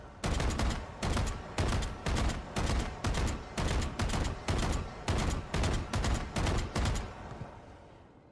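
Short two-round bursts of gunfire from a shooter game, about a dozen sharp, evenly spaced pairs of loud shots in a regular rhythm, with no voices.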